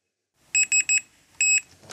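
A multimeter on continuity mode beeps while probing a GTX 560 graphics card, three short bright beeps in quick succession and then one longer beep, loud and close with no talking.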